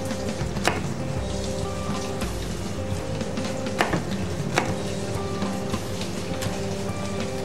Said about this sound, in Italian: Se sono molto grandi, tagliate a metà.